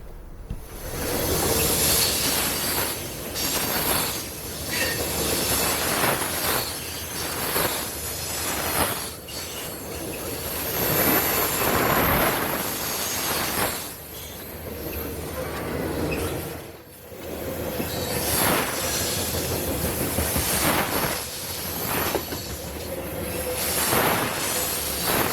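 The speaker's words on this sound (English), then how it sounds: "A southbound loaded grain train heading probably south of Atlanta somewhere" A southbound loaded grain train rolls past at night, a continuous loud rumble of freight cars with rhythmic wheel clatter and high squealing from the rails, rising and easing as the cars go by, with no voices.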